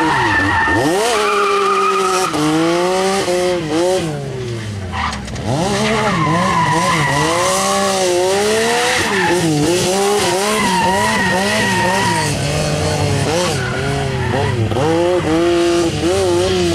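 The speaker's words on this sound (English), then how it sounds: "I'm gonna hop in line and drift the Mustang." New Edge Ford Mustang drifting, tires squealing loud and continuous over a revving engine that rises and falls in waves, with long sliding screeches throughout.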